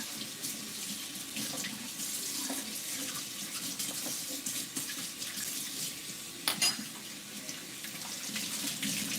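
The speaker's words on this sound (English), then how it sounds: "Wash this spoon." Tap water runs steadily into a kitchen sink while a spoon is rinsed under it, a constant close hiss with a brief sharper clatter near the end.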